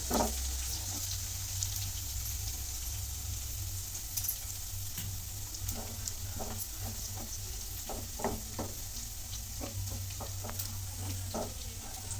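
Garlic fries gently in oil over low heat, a steady bright sizzle running throughout, broken by soft scraping taps of a stirring spoon against the pan.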